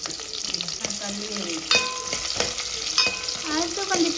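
Chopped tomatoes and onions fry in a pan for a vegetable kuruma, with a steady close sizzle and several sharp scrapes and clanks of a spoon stirring against the pan.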